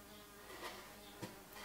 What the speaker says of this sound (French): Et une abeille. Vous entendez l'abeille? Elle en fait du bruit